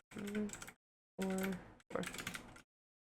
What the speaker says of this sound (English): This is a lot of typing